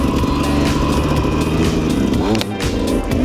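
An enduro motorcycle climbs a hard enduro hill with its clutch slipping, the engine droning loud and steady up close before a brief dip and surge near the end.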